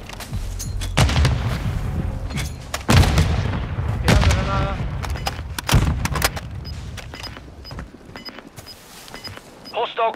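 Grenade blasts and rapid gunfire in Warzone 2, a series of loud booming explosions and sharp shot cracks spread across the stretch with brief pauses, dense and close, with faint game voices mixed in.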